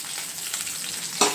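Green chillies and onion fry in hot oil with a steady close sizzle and light stirring, ending in a sharper burst of crackle as more goes into the pan.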